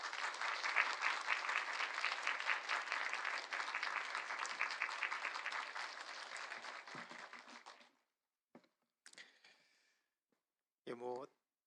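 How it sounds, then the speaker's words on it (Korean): Congregation applauding during a Sunday worship service at a Korean church as a visiting pastor comes forward, a dense sustained round of clapping that fades out after about eight seconds, followed by brief scattered sounds. "이 시간 정지웅 목사님 나오실 때 귀한 목사님 보내주신 하나님께 영광의 박수 올려드리면서 맞이하겠습니다."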